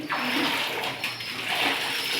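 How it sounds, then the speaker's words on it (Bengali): Water splashing and pouring steadily while pigeons are bathed, a continuous broadband wash with a brief surge near the middle and some faint low background sound, fairly close. "ভাই এখন কবুতর গোসল করাতেছে।"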